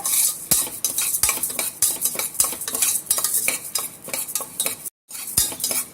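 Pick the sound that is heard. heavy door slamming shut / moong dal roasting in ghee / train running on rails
moong dal roasting in ghee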